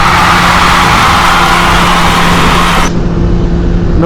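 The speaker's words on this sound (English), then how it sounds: "Doing my final test ride on the CBR 600RR." A Honda CBR 600RR sport motorcycle on a test ride gives a loud, constant engine drone, steady and close, with heavy wind noise throughout.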